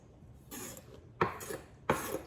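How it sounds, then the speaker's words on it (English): Mushrooms being dropped into a bowl in a home kitchen, three soft scraping, clattering handfuls about half a second apart, close and quiet with no talk. "We're gonna put this in our bowl. The mushrooms in the bowl."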